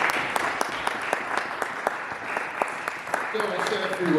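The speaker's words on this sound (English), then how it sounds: "Keep the applause going as we do it first." Steady applause from the audience at a book launch event, clapping continuous over the whole stretch with a few sharper individual claps standing out, and some background voices mixed in.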